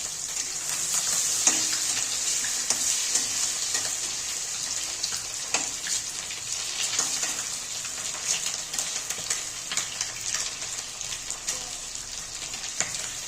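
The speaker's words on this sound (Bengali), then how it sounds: "ডিমগুলো ভাজা হয়ে গেছে" Eggs frying in hot oil in a pan for egg curry, a continuous bright sizzle with scattered pops and crackles close by, running steadily throughout with no voices.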